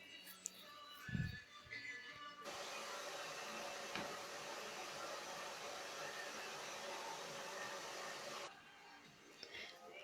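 Hair dryer blowing to dry paint on a handmade craft tiara, a steady close whooshing hum that starts abruptly, runs for about six seconds and cuts off, with faint handling noises before and after.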